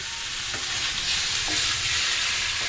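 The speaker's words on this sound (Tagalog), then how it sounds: "At pipintuhin siya sa sariling mantika" Pork fat for chicharon frying in its own rendered oil, a loud, steady close-up sizzle and crackle filling the whole clip with faint stirring sounds and no talking.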